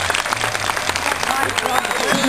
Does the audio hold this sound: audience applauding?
yes